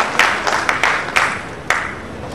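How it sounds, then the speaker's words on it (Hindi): An audience at a birthday celebration event claps loudly in a series of sharp, uneven bursts, each ringing out and settling into a sustained patter of applause close by. "सब लोग जोर से तालियां बजाइए"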